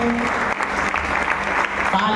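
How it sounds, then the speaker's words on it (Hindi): Steady applause from an audience fills the whole stretch, dense even clapping at constant level without breaks. "जोरदार तालियां।"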